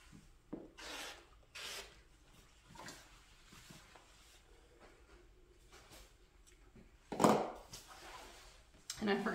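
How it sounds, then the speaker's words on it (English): Fabric side panels for a handbag are trimmed in a series of soft, scratchy cutting strokes. The strokes come in short separate bursts, fairly close and quiet, with one sharper, louder snip near the end. "I'm just going to trim off some of this"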